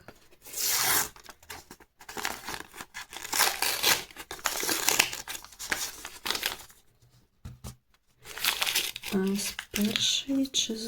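Crinkling and rustling of a paper packet being handled up close, in uneven bursts, with a voice speaking briefly near the end.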